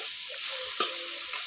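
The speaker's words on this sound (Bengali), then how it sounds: "এগুলো এবার ভেজে নিচ্ছি সরিষার তেল দিয়ে।" Soya chunks seasoned with turmeric, salt and chilli fry in mustard oil in a pan, giving a close, continuous hiss with a brief scrape of stirring midway and no talking.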